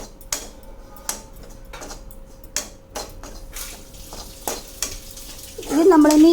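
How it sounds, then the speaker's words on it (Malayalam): Coriander, chilli and turmeric powders are stir-roasted in a pan for a soya chunks curry, with repeated sharp scraping taps of a spoon over a faint sizzle and a louder frying burst at the end. "മല്ലിപ്പൊടി, മുളക് പൊടി, മഞ്ഞൾപ്പൊടി, ഇതെല്ലാം കൂടി നന്നായിട്ടൊന്ന് ഇനി യോജിപ്പിച്ച് നന്നായി വറുത്തെടുക്കാം"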